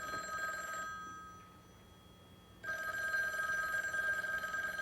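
An old telephone bell rings in an indoor scene, one ring cutting off and a second starting, loud and alone with no talk.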